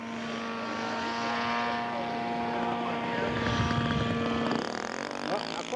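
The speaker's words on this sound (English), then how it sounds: "The Silver is in the air now. Beautiful airplane." A scale model airplane flies a touch-and-go demo at an air show, its engine giving a steady, loud buzzing drone whose pitch shifts as it passes, sustained throughout.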